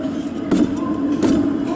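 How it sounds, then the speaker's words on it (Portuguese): Worn rear wheel bearing on a 2010 Volkswagen Voyage, a low steady rumbling hum from the spinning wheel, faint and continuous beneath broadband background noise with a couple of brief louder swells. "Aqui na traseira é um Voyage, vou mostrar para vocês aqui, ó, rolamento roncando."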